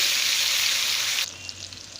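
Finely chopped tomato dropped into hot oil already crackling with mustard seeds and cumin, a loud steady sizzle that suddenly drops to a softer bubbling hiss with faint pops.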